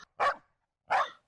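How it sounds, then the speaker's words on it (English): Two sharp, yappy barks from a tiny cartoon dog in an animated Nollywood comedy, spaced about half a second apart, close and clear with silence between them. "Just look at this tiny dog."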